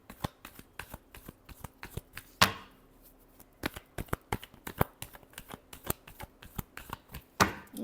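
Tarot cards being shuffled by hand, a long run of sharp riffling snaps and flutters, close and loud, with no talk.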